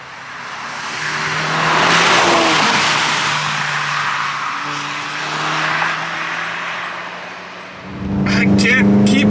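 A tuned 2020 VW GTI with an Integrated Engineering tune pulls hard under acceleration, its engine drone rising and falling from inside the cabin for several seconds before a voice cuts in near the end.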